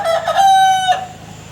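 A rooster crows once, loud and close, a long harmonic call that rises and fades within about a second.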